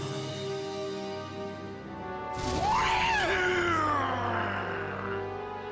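Arius, a boss character in the video game Devil May Cry 2, lets out a sudden, loud, drawn-out scream that bursts in over a steady background drone and slowly trails off.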